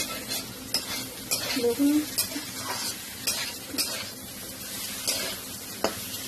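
Small maurola fish curry with vegetables is sautéed and stirred in a pan: a soft sizzle under repeated spatula scrapes and clinks, with a brief spoken word.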